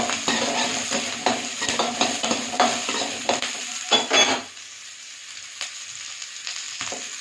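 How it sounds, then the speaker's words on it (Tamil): Onions sauté in a little oil for a Tamil kovakeerai chutney, a loud close sizzle broken by repeated scraping stirs of a spoon against the pan, then the frying quiets to a softer crackle with occasional taps. "கொஞ்சமாக எண்ணெய் ஊற்றிக்கலாம். வெங்காயம் கொஞ்சம் நேரம் வதங்கட்டும்."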